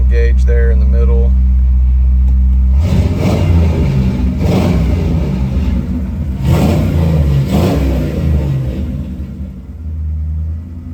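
A 1993 Ford Bronco King Ranch conversion idles with a deep rumble, then revs several times in a row, each rise swelling and falling back over a steady low engine drone.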